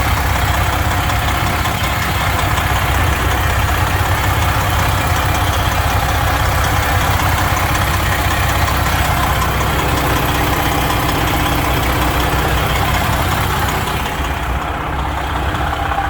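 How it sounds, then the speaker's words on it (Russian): A tuned car engine making about 550 horsepower idles steadily up close, a constant low rumble with no speech, holding even throughout. "Чисто работает мотор, в принципе, что, только собрано."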